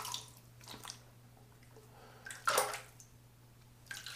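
Water splashing while shaving soap is rinsed off a face, a few short separate bursts of splashing and dripping against a faint steady hum, close and fairly quiet.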